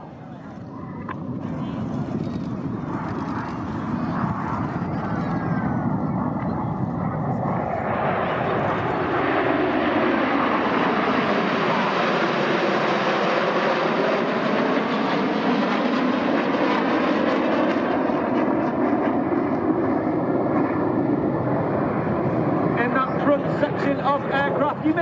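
Red Arrows display jets at the Southport Air Show roar past in a long, loud, continuous sweep of engine noise that swells and fades, with a commentator talking over it throughout.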